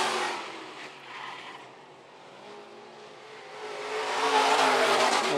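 Sport modified race cars roar around the dirt oval at Phillips County Raceway, their engines swelling and fading as they pass through the corners, loud and steady with no talk.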